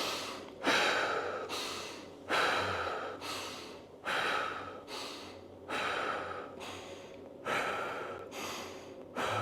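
Slow, deep breaths come through a goblet squat with a light weight, about nine audible inhale-exhale cycles at a steady rhythm, close and fairly quiet with no talking.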